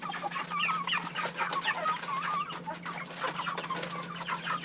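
Several pasture-raised chickens in a chicken tractor cluck and murmur close by, with steady low background hum and no talking.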